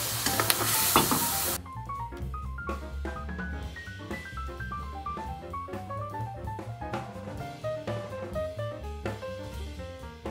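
Yogurt poured into a frying mushroom, pea and carrot gravy in a Tamil kitchen sets off a loud, sharp sizzle lasting about a second and a half, then fades to soft pan noise under background music.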